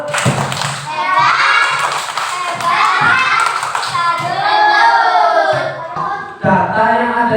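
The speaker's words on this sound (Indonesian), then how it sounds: "Yuk kita kasih tepuk salut buat Azhar dan Fatih." Second-grade schoolchildren in a classroom chant a rhythmic clapping cheer. Loud, close young voices ring out over quick hand claps and thumps that stop and start in a patterned beat.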